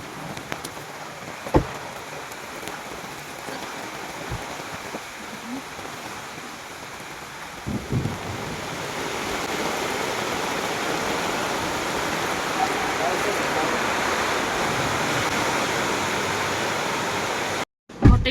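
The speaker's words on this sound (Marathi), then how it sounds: "पाऊस पडतोय." Steady rain falls outdoors, a soft hiss that thickens and grows louder halfway through and continues to the end, with a few faint knocks and no talk.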